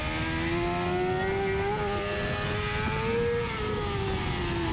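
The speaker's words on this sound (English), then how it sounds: "Here's Taylor Mackenzie at Donington Park on his BMW S1000RR." A BMW S1000RR racing motorcycle at Donington Park screams at high revs along a short straight, a continuous loud engine wail with pitch rising and dipping slightly across the gears.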